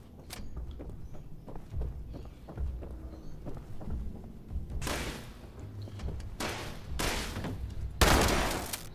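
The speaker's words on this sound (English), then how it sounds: "You shoot their arms off." Gunfire in the video game Fallout 76, light footstep-like taps giving way to several loud bursts of shots in the second half, no speech.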